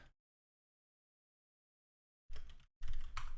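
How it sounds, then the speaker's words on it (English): Typing on a wireless computer keyboard: after a long silence, two short bursts of close, clattering keystrokes, with no voices. "This wireless stupid keyboard."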